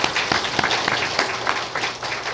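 Congregation at a Korean church ordination and installation service giving a steady round of dense applause, fairly close and filling the whole moment without pause.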